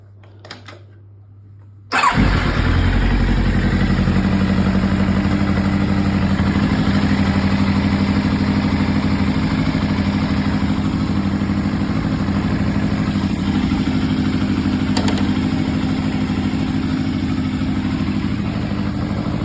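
A Yamaha YZF1000 Thunderace motorcycle engine starts on its first run after a brief starter whir and settles into a loud, close, steady idle with a lumpy low rumble.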